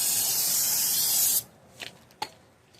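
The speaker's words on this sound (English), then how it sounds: "So make sure you clean with the brake cleaner." A loud, continuous hiss of brake cleaner sprays onto the oily rear brake parts of a 2016 Subaru Forester for over a second, then stops, leaving a few faint knocks and rubs.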